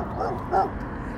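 A mother dog on a roadside by her dead puppy gives soft, whining whimpers, with two faint cries standing out over steady background noise and low voices nearby.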